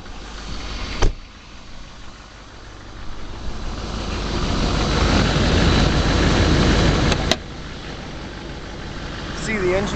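A Chevrolet K2500 Duramax diesel truck engine turns over and rumbles up to a loud, steady roar, then settles into a lower idle, with a couple of sharp clicks.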